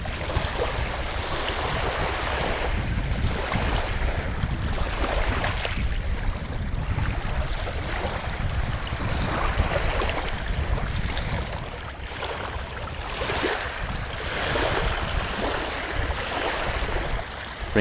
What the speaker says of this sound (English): as you listen to the waves